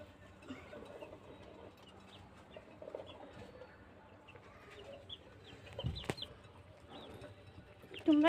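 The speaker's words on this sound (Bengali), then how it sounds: "এখানে মুরগিও দুষ্টামি করতেছে অনেকগুলো," Several chickens eating alongside other livestock give soft, scattered clucks and rustling pecks close by, with a louder squawk near the end.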